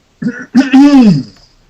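A short throat-clearing cough followed by a longer rasping, voiced cough, close and loud, then silence.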